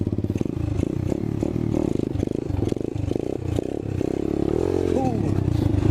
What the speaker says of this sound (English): just gun it again. Or give it gas.